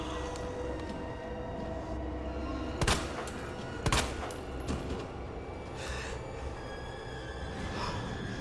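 Two sharp gunshots crack out a second apart in Resident Evil 2, standing above a steady rumbling game ambience with a few fainter thuds afterward.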